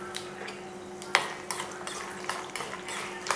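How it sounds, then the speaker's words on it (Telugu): A tempering of urad dal, chana dal, peanuts and cashews crackles softly in hot oil while a spoon stirs, giving a steady low sizzle with a few sharp metal taps on the pan, nearby and with no talk. "మినపగుళ్ళు, శనగపప్పు వేసుకొని చిటపల్లా ఆడిన తర్వాత"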